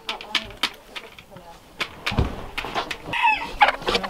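Backyard homestead chickens clucking softly nearby in short, scattered bursts, with some quieter talk mixed in.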